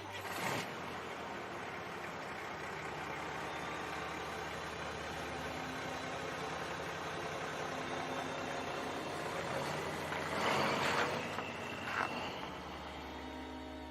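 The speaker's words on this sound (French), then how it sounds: "Le camion démarre." A truck's engine starts and runs with a low, steady rumble under a faint background. There are a couple of louder bursts near the start and near the end as it moves off.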